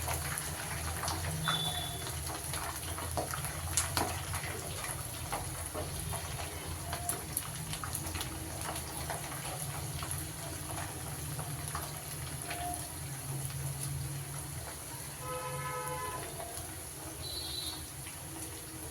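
Battered cauliflower pieces deep fry in hot oil, giving a continuous bubbling hiss with scattered crackles, steady and close.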